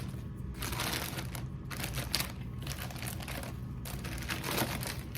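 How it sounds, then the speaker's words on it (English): Continuous crinkling and crackling of thin plastic film being pulled off a resin bowl, close and steady, with irregular bursts of rustle. "We can see this plastic's really coming off fairly easy"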